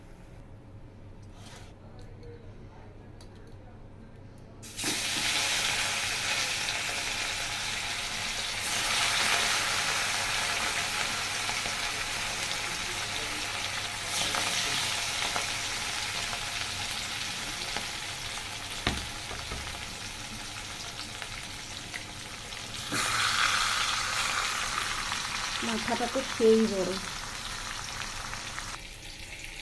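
A large katla fish head fries in hot oil in a home kitchen, a steady loud sizzle that starts abruptly and continues with occasional stirring clatter, while someone talks briefly over it.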